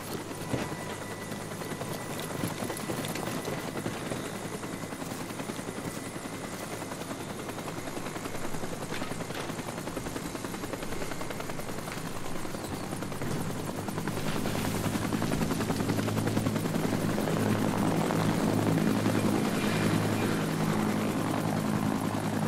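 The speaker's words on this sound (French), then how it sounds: "Maintenant, l'hélico va partir." A helicopter in the video game Sniper Ghost Warrior 3 drones steadily with a whirring rotor hum, growing louder and fuller about two-thirds of the way through as it seems to lift off or pass nearer.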